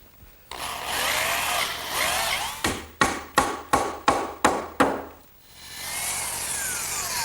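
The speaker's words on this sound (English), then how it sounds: "Now I'm just going to drill a hole down through the top and pin it with a dowel." A drill bores a hole down through the top of a wooden garden bench for a dowel pin, a steady whir broken by a series of rhythmic pulses, then running on alone.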